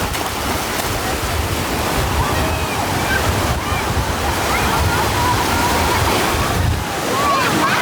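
Ocean surf rolls steadily at Siesta Beach, a continuous broad wash of waves mixed with wind buffeting the microphone, with faint voices in the background.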